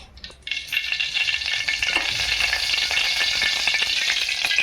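Two ladles of oil in a pot for Maharashtrian dahi kadhi crackle into a steady, bright sizzle that rises after a brief quiet start and holds evenly close by, with no talking.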